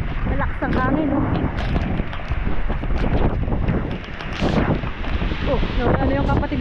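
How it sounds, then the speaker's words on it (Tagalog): Strong wind buffets the microphone in a steady roar during flooding, with people talking over it throughout. "Malakas ang hangin, oh."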